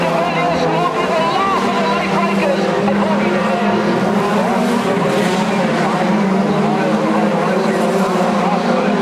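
2.1 Modified race cars at Tygerberg Raceway, with engines roaring loud and continuous as the pack races past, under a commentator's steady talk.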